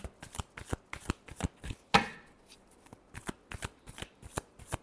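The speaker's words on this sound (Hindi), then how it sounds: "और मैं कार्ड शफल करती हूँ।" Tarot cards are shuffled close by in quick, crisp, repeated riffles and taps, with one louder snap midway through.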